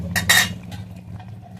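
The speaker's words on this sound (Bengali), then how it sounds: "আমি এবারে ঢাকা দিয়ে দেবো" A lid clanks down onto a cooking pot of lentil bori curry with potatoes, a couple of bright metallic clinks followed by a quiet low simmering hum.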